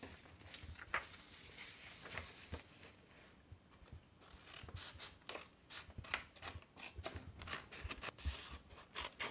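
Scissors cut through paper in a string of quiet, crisp snips and rustles, growing more rapid in the second half, with no talk over them.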